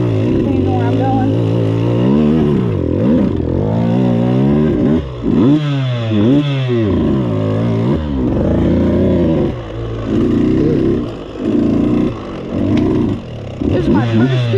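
Honda CRF 125F dirt bike ridden along a new trail, engine rising and falling in repeated revving surges as it accelerates and shifts, loud and close with wind noise, a voice talking over it at times.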